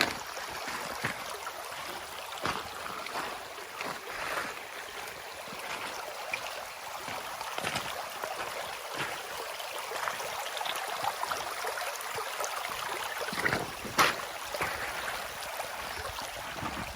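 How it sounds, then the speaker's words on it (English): Water flowing in Bryant Creek, a steady broadband rush with small splashes and trickles, moderately near and continuous throughout, with no talking over it. "now we're at the creek"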